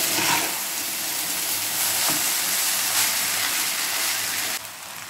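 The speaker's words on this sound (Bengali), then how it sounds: "এবার চাউমিনটা সবজিগুলোর সাথে মিশিয়ে নিচ্ছি।" Vegetable chow mein noodles stir-fried and tossed with vegetables in a hot pan, a steady close sizzle and frying hiss running through, with scraping stirs and a slight drop in level near the end.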